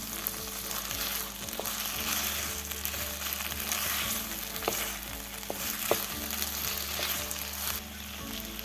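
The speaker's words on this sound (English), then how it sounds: "Drain the pasta al dente and add it to the pan with the sauce" Burnt wheat orecchiette is tossed in a pan with cherry tomato and eggplant sauce, making a steady, moderate sizzle with soft stirring scrapes and occasional light knocks.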